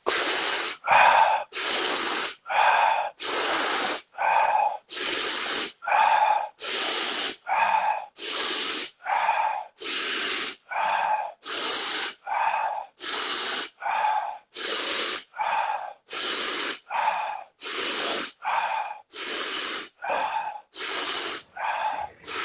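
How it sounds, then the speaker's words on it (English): Deep rhythmic breathing exercise, strong hissing inhales and exhales repeating in a steady cycle of about one breath per second, close and loud, with no talking. "So go ahead and start the same breathing pattern again."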